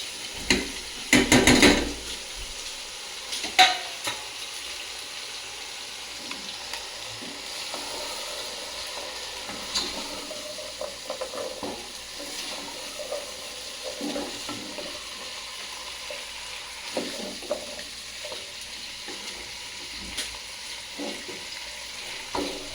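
Mixed vegetables hitting hot spice paste for vegetable khichuri with chicken, giving a steady broad sizzle and frying hiss with scattered stirring scrapes, a louder burst near the start, close by and without voices.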